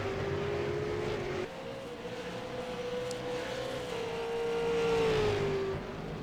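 A V8 Supercars racing engine drones steadily at close range, its pitch holding and then rising and falling as cars battle for position, with no talk over it.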